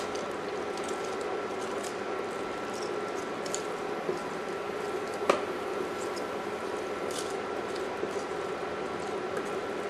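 Escabeche sauce with sliced garlic and onions gently simmering in a pot for pickled green bananas, a steady soft bubbling with faint small pops, close and quiet.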